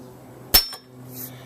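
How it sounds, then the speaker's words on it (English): A hammer gives a single sharp metallic tap to a bicycle stem to knock its wedge loose inside the steer tube on a Sportek Raven 24-inch 21-speed bike, the strike close and brief, followed by a faint ringing against quiet room tone. "Take a hammer and give her a bit of a tap."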